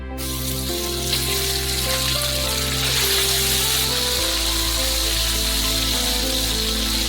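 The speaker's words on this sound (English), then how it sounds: "And we'll fry up our chicken first." Chicken pieces fry in oil in a frying pan, giving a continuous close sizzle and crackle that stays steady throughout without any talking.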